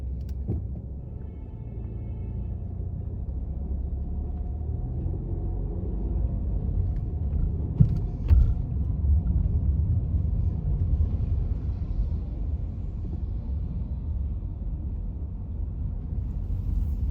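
A car drives through a town centre, heard from inside as a steady low road rumble and engine drone, with a few faint knocks and bumps along the way.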